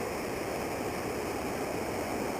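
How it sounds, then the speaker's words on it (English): A river rushes steadily along a stretch just south of Boulder Flat in snowy weather, its water making a constant, even hiss with no break or voices. "I love the sound of the rushing water."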